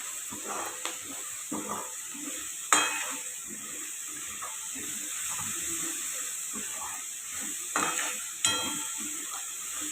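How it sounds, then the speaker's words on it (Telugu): Food sizzles and hisses in a hot pan while a utensil stirs and mixes it, with scattered scraping clinks against the pan and a few louder knocks; steady frying noise underneath, close by. "బాగా మిక్స్ చేసుకోవాలి."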